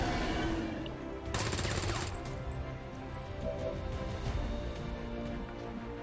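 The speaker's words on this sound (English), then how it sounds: "Brave man shooting a berserker." Gunfire from a soldier shooting a berserker in XCOM 2, a sharp rapid burst of automatic shots followed by lingering battle noise and a low hum.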